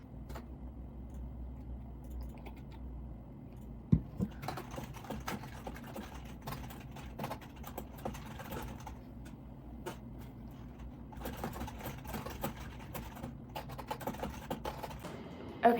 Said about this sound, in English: I'm just gonna type out whatever comes to my mind